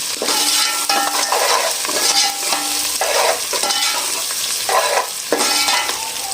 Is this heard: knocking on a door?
no